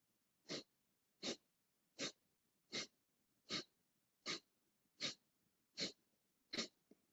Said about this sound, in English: let's do pumping rhythmical breath